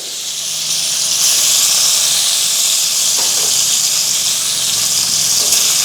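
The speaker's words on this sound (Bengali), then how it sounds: "ঠিক এইভাবে পনিরগুলো আমি ভেজে নিচ্ছি" Pieces of paneer frying in a small amount of hot oil give a steady, bright hiss that stays loud and even throughout, with no talking.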